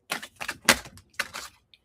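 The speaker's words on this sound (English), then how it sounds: "as soon as I started shuffling" Tarot cards being shuffled by hand, a few quick crisp riffling bursts in close succession, fairly close and moderately loud, with a tiny tick at the end and no talking.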